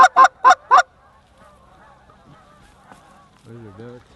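Canada geese honk at a waterfowl hunt among mallard decoys, with four loud, quick honks up front, then a quiet stretch and one lower, softer call near the end.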